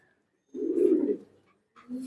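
A pigeon gives a single soft, low coo in the loft, followed by a fainter second call, close and quiet with no talk.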